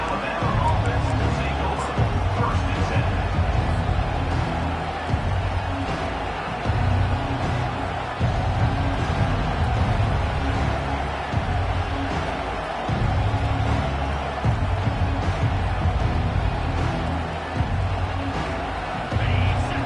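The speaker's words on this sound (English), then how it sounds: "This crowd trying to make life miserable for this offense." A hostile stadium crowd at a college football game against Oregon roars in a steady, dense wall of noise, with a commentator talking over it throughout.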